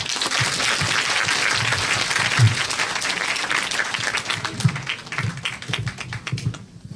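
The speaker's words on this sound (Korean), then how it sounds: "다시 한번 이민호 선배님께 박수 부탁드립니다" Audience applause at a high school festival talk event, steady dense clapping that thins out and fades toward the end.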